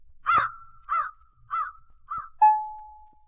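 A crow caws four times in a steady rhythm as a sound effect in a read-aloud Halloween story about an old witch, followed by a single clear ding that rings out and fades.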